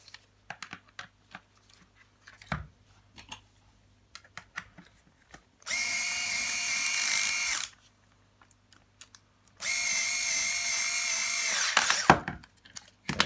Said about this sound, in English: we'll just use our screwdrivers to get this tight.